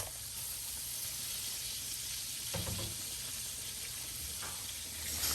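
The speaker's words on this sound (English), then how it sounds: "So I have both steaks frying" Ribeye steaks fry in canola oil for chicken-fried ribeyes, giving a steady, close, moderately quiet sizzle and hiss throughout with a few brief louder crackles.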